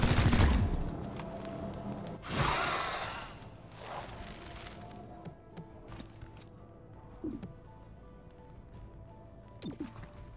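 Gunfire from the turn-based tactical game XCOM Chimera Squad: a burst of loud shots at the start, another volley a couple of seconds later, then quieter scattered impacts and clatter across the rest.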